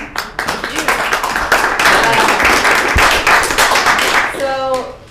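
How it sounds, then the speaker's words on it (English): Scattered clapping from a small group builds into brief applause, with people talking over it and a voice rising near the end. "Round of applause for everyone."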